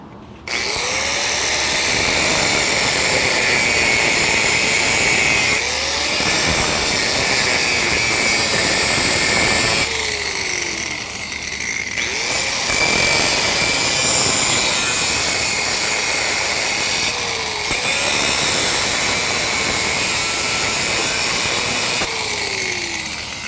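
A power grinder works loudly on metal on an abandoned 1952 International truck, cleaning the surface before welding, in long sustained bursts with brief pauses and pitch dips as the load changes.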